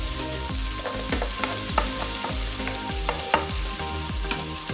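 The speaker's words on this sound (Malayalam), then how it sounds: "ഇനി ഫസ്റ്റ് നമുക്ക് ഓണിയൻ ഇടാം. നല്ലപോലെ ഒന്ന് മിക്സ് ചെയ്യാം. പിന്നെ ഗാർലിക് ഇടാം." Onion and garlic fry in hot oil in a home kitchen, a dense steady sizzle with repeated scraping and stirring strokes of a spoon against the pan, close and continuous with no talking.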